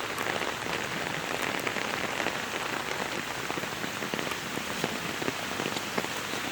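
Rain falls steadily on surfaces during an outdoor walk, a dense, even hiss of drops with no pauses from start to finish.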